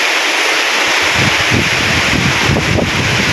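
Strong wind gusts through foliage in the countryside during a sudden storm, a dense, roaring rustle that rises after the first second and keeps blowing steadily without voices.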